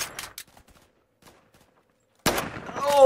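Gunshots in Roblox Phantom Forces: a few quick sharp cracks at the start, a long near-silent gap, then a loud burst of firing followed by a ringing, tonal game effect at the end.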